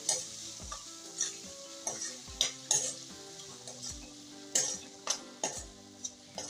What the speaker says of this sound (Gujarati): તો હવે મીઠું નાખીને આપણે ટમેટાને સરસ રીતના હલાવી લઈશું